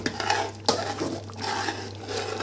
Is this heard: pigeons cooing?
no